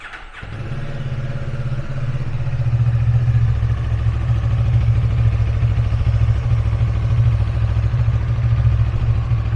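A QJ Motor SRV motorcycle engine turns over and fires up from cold, then settles into a loud, steady, deep idle that stays close and constant.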